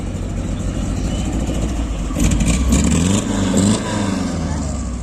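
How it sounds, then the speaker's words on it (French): An Alpine car's engine revs at a car meet at La Roche-sur-Foron, a steady rumble swelling into a louder rev midway before settling back, with people talking under the engine noise. "Lui qui faisait vrombir son Alpine."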